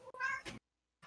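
A house cat in a room gives a short, close meow, a drawn-out tonal cry that tails off into silence before a brief second sound begins, fairly quiet overall.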